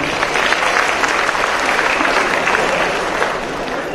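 Audience applause at an award ceremony: steady, dense clapping from a crowd, loud and continuous throughout without pause.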